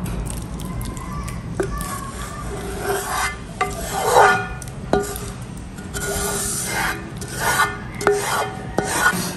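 A seafood boil with corn, potatoes, carrots, hotdogs and sauce being stirred, a rough scraping and rubbing of a utensil against the pot in uneven strokes, with occasional clinks and brief talk.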